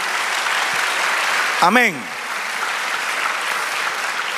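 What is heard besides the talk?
applause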